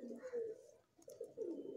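A racing pigeon held in the hand coos softly and close by, two low rolling coos separated by a short pause, with nothing else heard.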